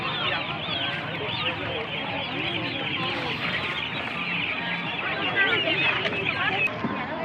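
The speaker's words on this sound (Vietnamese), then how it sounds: "Con gà này gà gì ấy mẹ?" Chickens cluck and chatter steadily at close range on a household poultry setting, with people talking intermittently over the birds throughout.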